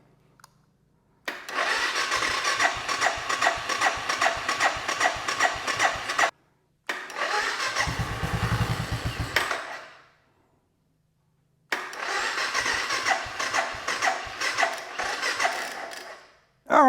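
A motorcycle engine on choke cranks after two years in storage. Three long bursts of rapid, rhythmic starter churning are separated by silent pauses, and the motor never catches.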